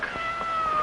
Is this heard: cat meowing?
yes